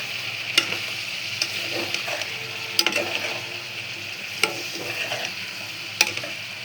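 Chilli powder, spices and salt sautéing in a pan for a papaya and mung dal dish, making a soft continuous sizzle with sharp periodic clicks of a spatula striking the pan.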